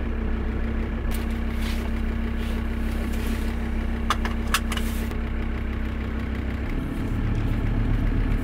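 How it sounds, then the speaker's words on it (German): A VW T4 van with an AJT engine runs at a steady idle, a continuous low rumble with a constant drone, close and fairly loud, with a few faint clicks partway through. "Motor geht schon mal an, das ist gut."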